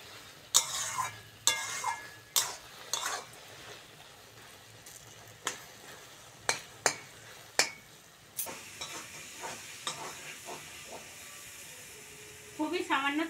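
Taro stolons frying with prawns in a pan, a spoon scraping and stirring in repeated sharp strokes over a faint low sizzle, close by, with a few quieter clatters near the end.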